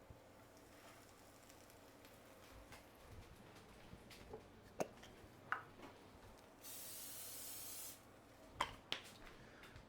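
A cooking spray can hisses out in one steady burst of about a second, set among light kitchen clatter and knocks while spicy mushroom quesabirria is being made.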